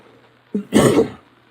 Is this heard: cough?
yes